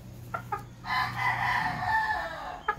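A gamefowl rooster of the Sweater Kelso line crows loudly and close after a couple of short clucks, then another cluck follows; no talking.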